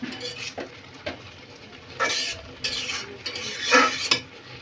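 A spoon scrapes and stirs sweet pumpkin or gourd dessert with cardamom powder in a pan on the stove, several separate scraping strokes with soft sizzling between, close and fairly quiet, no voices.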